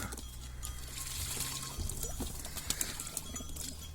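Pigeons cooing softly among scattered rustles, water splashes and light clicks as they hop down to a shower of water, fairly quiet and close.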